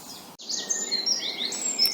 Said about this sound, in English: more and more sounds of birds and other animals